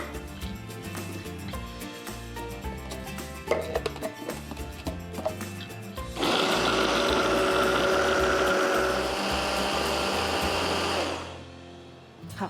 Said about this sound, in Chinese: 为了要节省时间，所以这一次的话，我们不管是番茄、小黄瓜、洋葱跟大蒜，都使用食物调理机